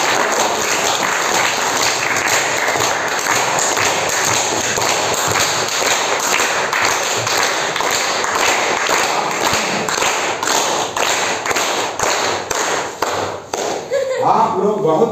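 An audience claps loudly at a health talk, a sustained, dense wall of clapping lasting over ten seconds before a brief lull and a final swell.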